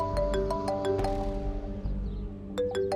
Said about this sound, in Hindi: ये ले, रानी का फोन भी आ गया।